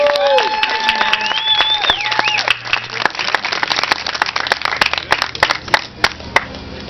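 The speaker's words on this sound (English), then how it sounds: "one more round of applause to the Department of Ag because they've been great" Applause at the 2014 Hemp Awards in Boulder, Colorado: an audience claps steadily through the clip, with loud voices and a sustained tone over it at the start, then a scattered crackle of hand claps carrying on at moderate level.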